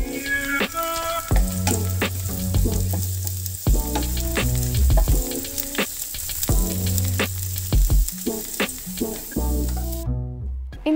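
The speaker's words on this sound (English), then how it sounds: "In a pan, heat about 1 tablespoon of oil and stir fry the cabbage for about couple of minutes" Shredded cabbage stir-fries in hot oil in a pan, a steady close sizzle broken by repeated clanks and scrapes of a spatula against the metal.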